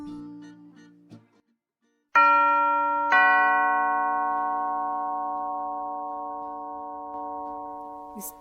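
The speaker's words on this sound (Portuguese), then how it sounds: "Toca a campainha." A household two-tone doorbell chime sounds twice in quick succession, each bright ding ringing out and fading slowly over several seconds, preceded by softer indistinct sounds in a quiet room.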